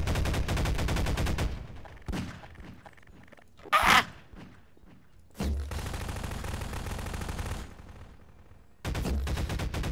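Video game gunfire in Garry's Mod: rapid automatic bursts ring out loud and close, broken by short pauses, a sharp impact and shuffling, with three main volleys across the stretch.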